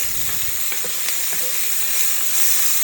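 Smoked sausage sizzles and chars in a hot pan, a steady loud crackling hiss with occasional small pops and scrapes, no voices.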